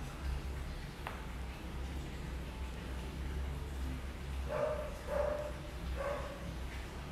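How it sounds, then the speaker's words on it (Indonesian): A dog barks three times at moderate distance, short separated yaps over a constant low rumble of background noise from nearby renovation. "Dia menggonggong lagi, guys."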